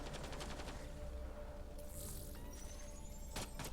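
Gunfire from a sniper rifle in the video game Mass Effect: Andromeda, with several quick sharp shots and a rapid burst amid loud combat noise, all at low overall volume and with no voices.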